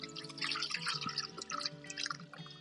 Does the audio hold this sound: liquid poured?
yes